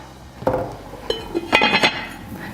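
Metal lid clanking onto a cooking pot of coconut milk lamb curry in beef broth, several sharp ringing clinks and rattles as it settles, close by with no talking.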